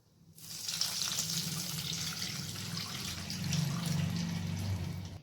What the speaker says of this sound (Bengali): তারপর দিয়ে দিচ্ছি 2 কাপের মতো জল।